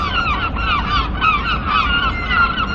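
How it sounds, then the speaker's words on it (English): Several gulls call noisily over a river on the coast, their harsh honking cries repeating steadily and loudly against a constant outdoor rumble. "one or two noisy gulls."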